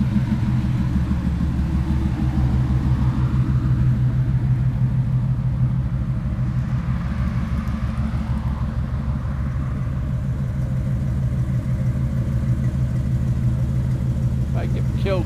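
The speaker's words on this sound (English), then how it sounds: "hear the car running." A 1959 Chevy Biscayne engine idles steadily, a close, deep rumbling drone throughout with a faint voice in the background.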